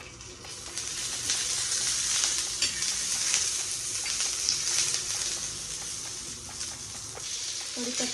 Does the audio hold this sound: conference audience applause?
no